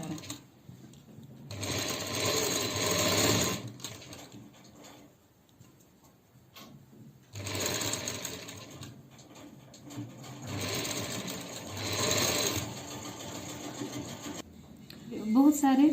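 A sewing machine stitches piping along the edge of a pant bottom in two long whirring bursts separated by a pause, with a person speaking quietly between runs.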